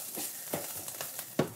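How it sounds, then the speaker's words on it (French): Onion cooking in a pan, with soft sizzling and a few stirring scrapes and clinks, quiet and close, no voices. "Je continue quand même à bouillir mon oignon."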